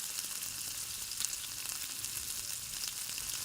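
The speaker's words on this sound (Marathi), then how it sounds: "आता याच्यामध्येच आपल्याला कांदा घालायचा आहे चिरलेला." Chopped onion sautés in oil over a mustard, cumin, curry leaf and garlic tempering, giving a steady close sizzle with faint stirring scrapes and no talking.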